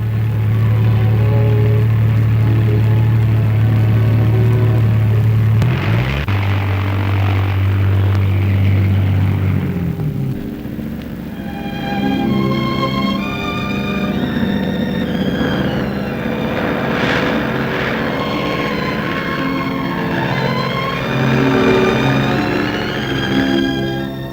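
Engines of a 1949 Scottish air ambulance plane start up with a loud, steady low droning roar that shifts pitch midway, then continue beneath a layered, tonal backdrop as the aircraft heads off.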